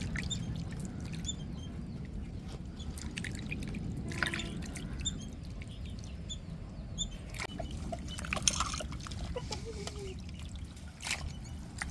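Soft splashing and dripping of water as cut dried fish is rinsed by hand, with scattered quiet drips and swishes over a low background.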